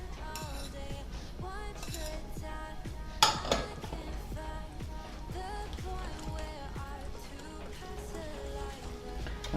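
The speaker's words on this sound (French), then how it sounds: "Et maintenant, il n'y aura plus qu'à mélanger tout ça." A whisk or utensil clinks and scrapes against a bowl while gluten-free cocoa crêpe batter is mixed with eggs, a quiet, steady rhythm of small taps with one sharper knock partway through.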